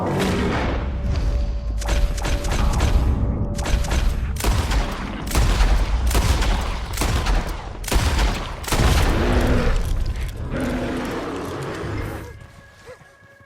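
Rapid bursts of gunfire from a shootout in Red Dead Redemption 2, volleys of loud shots and booming impacts repeating across the whole stretch with barely a pause, steady and close.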